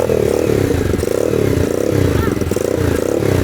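A motocross bike engine runs steadily at close range, its dense mid-pitched drone holding loud and continuous for the whole stretch with slight revving fluctuation.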